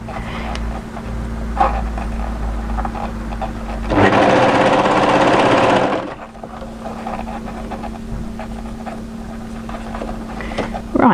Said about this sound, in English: continue overlocking